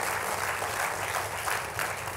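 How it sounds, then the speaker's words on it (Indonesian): A church congregation applauds during a worship service, a dense, even, continuous clapping that fills the room at moderate loudness without a break. "Tepuk tangannya boleh yang paling meriah buat Tuhan kita."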